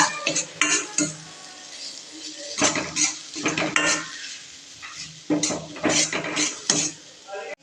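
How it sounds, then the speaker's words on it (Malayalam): Ground coriander powder being sautéed on low flame for masala pasta, with a spoon scraping and clinking against the pan in irregular bursts and a faint sizzle underneath. "അതിനുശേഷം ലോ ഫ്ലെയിമിൽ വെച്ച് അതിൻ്റെ പച്ചമണം മാറുന്നവരെ വഴറ്റുക"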